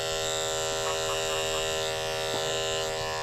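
Electric dog grooming clippers fitted with a 10 blade run in a steady close buzz throughout, working through a matted coat, with a few brief faint touches of contact.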